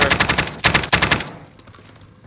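Rapid automatic machine-gun fire lays down suppressive bursts in Call of Duty: Modern Warfare. A tight, loud, close string of shots lasts just over a second, then a few scattered echoes follow.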